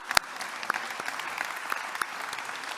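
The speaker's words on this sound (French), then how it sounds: "Donc on peut les applaudir aussi." Audience applause at a Lyon city partners' evening: scattered, fairly light clapping with a few sharper individual claps, steady throughout and with no voices over it.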